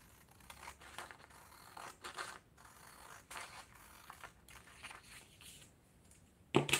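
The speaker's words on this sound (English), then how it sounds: "Then you can simply take your scissors and cut it along that line." Scissors snip through a paper pattern for a reindeer pouch, giving a string of quiet, short crisp cuts with brief pauses between them, and a sharper clatter at the very end.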